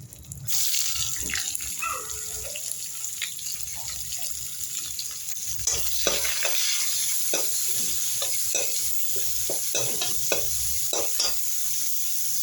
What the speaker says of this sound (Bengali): দেখো এবার পেঁয়াজ দিয়ে দেবো।